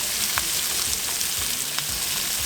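Meat sizzles and browns in a pot with a loud, steady frying hiss and occasional faint taps of stirring; no voices.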